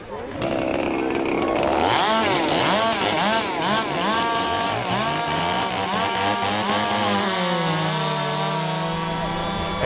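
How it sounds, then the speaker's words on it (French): A chainsaw cuts through logs at a lumberjack competition, its engine revving up and down in repeated loud bursts before settling into a steady drone, with voices audible beneath it. "le but de cette compétition-là, c'est de scier tous les morceaux de bois"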